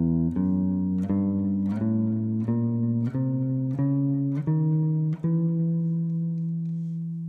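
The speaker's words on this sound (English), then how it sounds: "So the diminished scale sounds like this." Diminished scale of alternating whole and half steps played note by note on a sustained, tuned instrument, about eight evenly spaced notes with the last one ringing out and fading.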